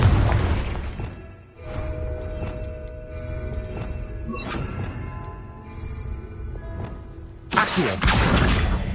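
A Confringo fire spell cast in Hogwarts Legacy, heard as a deep boom and whooshing blast with rumbling impacts that swell again into a loud crackling burst near the end.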